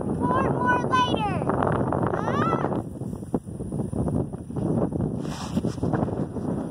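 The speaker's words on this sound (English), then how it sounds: "It is very windy." Blustery wind rushes and rumbles against the microphone while a person speaks over it, the gusts continuing loudly after the talking fades.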